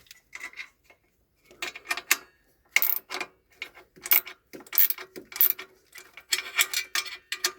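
Manual car gearbox being shifted into first gear during clutch disc work, heard as a series of sharp mechanical clicks, clunks and ratcheting knocks in irregular bursts with short pauses, close and fairly loud with no voices.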